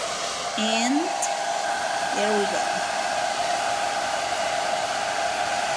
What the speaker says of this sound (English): My hair dryer is gonna be in low and heat.